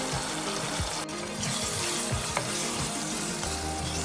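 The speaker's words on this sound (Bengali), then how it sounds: "আমি এগুলোকে ভালো করে নেড়ে দিচ্ছি" Egg bhuna sizzling in a pan while being stirred, with a steady frying hiss and scattered scraping clicks of the spoon against the pan, close and fairly quiet.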